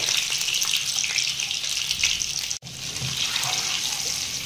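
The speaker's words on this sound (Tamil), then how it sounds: "இந்த முந்திரி பருப்பும் இந்த தேங்காய் கூட சேர்ந்து நல்லா ரோஸ்ட் ஆகட்டும்." Cashews and coconut slices roast in melted ghee for chakka pradhaman payasam, giving a steady, close, hissing sizzle with a brief dropout midway before the frying noise resumes.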